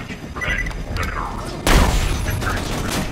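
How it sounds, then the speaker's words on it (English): Grenade blasts in the shooter game Borderlands 2 end in a sudden loud explosive boom with rumbling, debris-like noise, following lighter gunfire and game effects, with someone talking over the action. "You thinking grenades and you throwing grenades."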